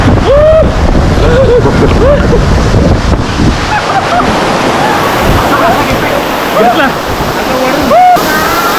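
Rushing water at Kanchan waterfall in the Konkan roars loudly and continuously close by, with wind buffeting the microphone and a voice talking over it.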